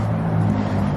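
BMW E90 with a single-exit N1/Tomei-style exhaust idling on a cold start, a loud, steady low engine drone with a constant rumble and no speech over it.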